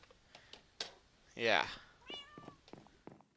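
A Minecraft cat gives a single clear meow in the middle of a castle-building session, preceded and followed by faint clicks and other quiet game sounds.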